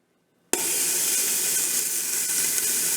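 Ground pork drops into a hot, dry Ninja Foodi Deluxe pot and erupts into a loud, steady sizzle that starts abruptly after a brief silence and holds, hissing and crackling close by, without talk.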